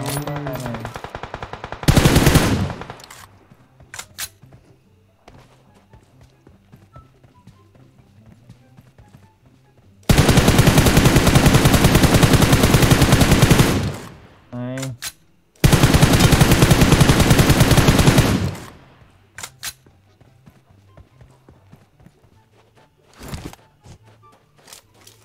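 Automatic gunfire from the mobile battle royale PUBG Mobile comes as two long, loud sustained bursts plus a few short shots, with quieter gaps and faint footstep-like sounds between them.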